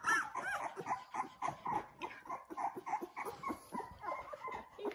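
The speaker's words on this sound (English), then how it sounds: "It's just a puppy" A Labrador puppy whimpers and yips in a rapid series of thin, high cries, close and fairly quiet, rising and falling continuously with no speech.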